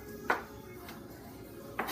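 A knife roughly chops vegetables into small bite-sized pieces for a marinade, giving a few sharp, separate board taps spaced well apart over quiet kitchen background.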